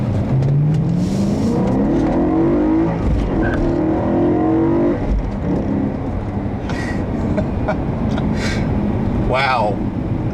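A 2011 BMW M3 with a six-speed manual accelerates hard on a test drive, its engine note climbing in pitch through two pulls with a gear change between. Steady, loud road and wind noise sits underneath.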